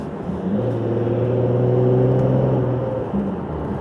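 An Infiniti G37 sedan's Motordyne Shockwave catback exhaust drones low and steady while driving, a continuous rumble with a slight rise in pitch, no voices.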